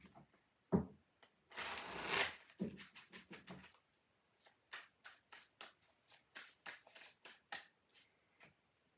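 Stiff tarot cards riffled and shuffled by hand: a long burst of rapid flutter, then a string of short, separate snaps and slaps at a steady pace.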